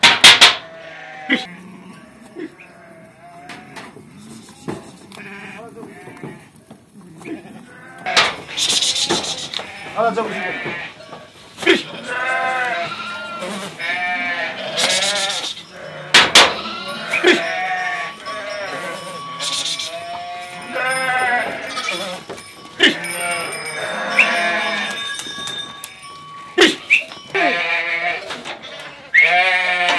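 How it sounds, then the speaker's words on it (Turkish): Sheep and lambs bleat repeatedly inside a barn, overlapping cries near and far, with occasional clanks and someone speaking between the calls. "İşte görmüş olduğunuz gibi kuzularımız, koyunlarımız."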